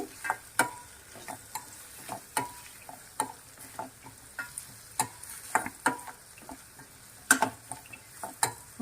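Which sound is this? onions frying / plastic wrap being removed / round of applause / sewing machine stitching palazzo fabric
onions frying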